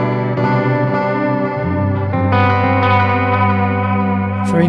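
Electric guitar played through the modulated delay of a Zoom G3X HD multi-effects pedal, sustained chords ringing with wavering, chorus-like repeats and a bass note shifting partway, loud and steady with no talking.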